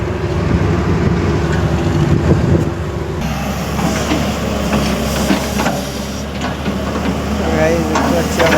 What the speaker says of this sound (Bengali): গাইস দেখতে পাচ্ছি আমরা পকলেন চালাচ্ছি